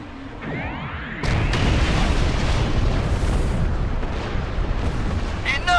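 Doomsday Weapon in Star Trek Online fires in sustained loud barrages, with a sweeping energy whine at the start and then heavy continuous blasts and explosions rumbling throughout.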